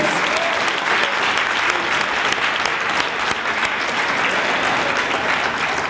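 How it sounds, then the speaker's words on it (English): Audience at a women in municipal government awards event applauding the honourees, loud continuous clapping throughout. "can we have a round of applause for all of our women?"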